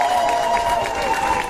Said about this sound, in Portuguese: Uma salva de palmas para a equipa.